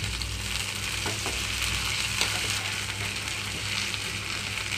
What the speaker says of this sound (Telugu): అల్లం వెల్లుల్లి పేస్ట్ కొంచెం వేగిపోవాలి